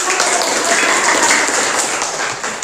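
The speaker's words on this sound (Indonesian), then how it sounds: "Oke, tepuk tangan." Applause from students in a junior high school classroom: a short, dense burst of clapping from many hands that fills the room and fades slightly at the end.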